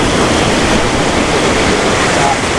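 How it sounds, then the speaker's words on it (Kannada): Sea waves crash onto the beach at Pondicherry in a loud, continuous wash of surf, with heavy wind buffeting the microphone throughout. "ನೋಡಿ ಖತರ್ನಾಕ್ ಬರ್ತಿದೆ ನೀರು"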